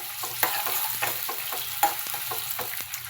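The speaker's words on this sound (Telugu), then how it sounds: "ఇవన్నీ వేసాక మంచి రంగు వచ్చే వరకు ఫ్రై చేయాలండి." Onions, green chillies and curry leaves fry in an oil tempering with mustard seeds, a steady close sizzle broken by several sharp scraping stirs of a spoon against the pan.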